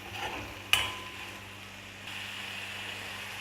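Onions sautéing in coconut oil in a kadai for squid roast give off a faint, steady sizzle with one sharp utensil clink early on, no voices.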